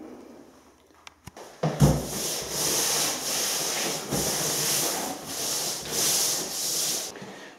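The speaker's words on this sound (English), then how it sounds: "I'm just going to apply that using this long brush here" A long brush spreading milky PVA across a ceiling makes repeated broad rubbing swishes in steady strokes, close and fairly loud, after a few sharp knocks at the start.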